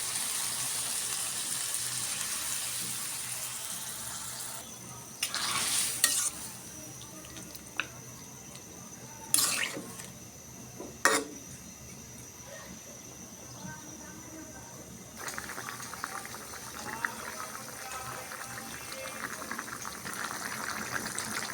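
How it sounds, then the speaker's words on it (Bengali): Water goes into a pan of fish curry that has been cooked down with bitter gourd, potato and eggplant, bringing a few splashing bursts and then a soft, steady bubbling hiss. "কষানো শেষ, এখন জল দিয়ে দেবো।"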